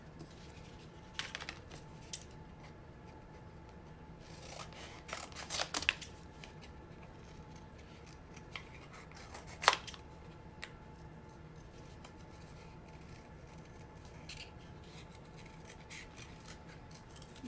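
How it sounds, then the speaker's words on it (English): Scissors cut a heart shape out of a paper plate for a yarn-heart Valentine craft, with a few faint, scattered snips and rustles in a quiet room. "and then we'll go ahead and cut that little part out."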